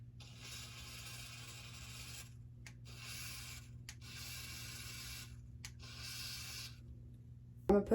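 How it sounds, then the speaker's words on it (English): Freezing spray from an aerosol can hissing around the edges of a frontal wig in four long bursts separated by short pauses, steady and fairly close, with a brief knock at the very end and no talking. "I'm gonna put some more freezing spray just around"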